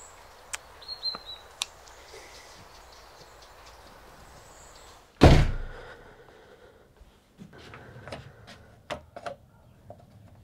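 A door bangs shut once with a single loud thud in an otherwise quiet room, surrounded by faint ticks and small knocks before and after.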